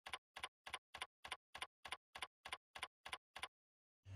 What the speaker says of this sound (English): let's type in Getting Started and hit Enter